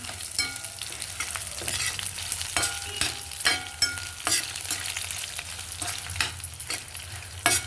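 Coriander seeds fry and crackle in a hot pan with garlic and dried red chillies, giving a steady sizzle broken by repeated scraping stirs, close and moderately loud with no voices.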